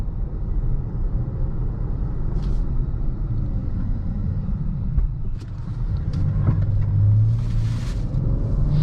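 Cabin of a 2021 Dodge Charger GT on the move, a steady low road rumble and engine drone heard from inside, with a few faint clicks and a brief swell of tire noise toward the end.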